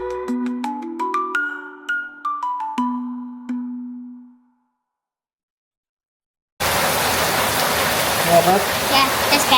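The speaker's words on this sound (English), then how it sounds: "It is chucking it down." Heavy tropical downpour on Koh Samui, Thailand, pouring through trees: a dense, loud, steady hiss of rain that starts abruptly after a stretch of piano-like tones and silence.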